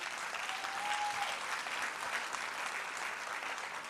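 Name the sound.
audience applause for early years practitioners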